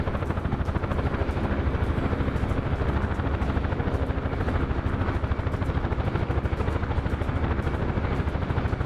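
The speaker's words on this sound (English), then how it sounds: "let's see if we can actually land without breaking the chopper" A UH-1 helicopter in a combat video game, its rotor beating in a fast, even, loud chop with a droning engine roar held steady throughout, close and uninterrupted.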